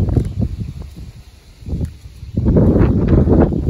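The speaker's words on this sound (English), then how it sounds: "Get that wind noise down a little bit." Gusty wind buffeting an outdoor microphone beside a newly finished RV roof, low rumbling bursts that swell and fade, then a steady heavier roar for the last second or so.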